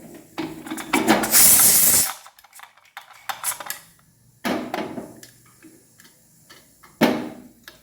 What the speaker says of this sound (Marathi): फटफट आवाज यायचा बंद झाला की समजून जायचं आपले पॉपकॉर्न तयार झाले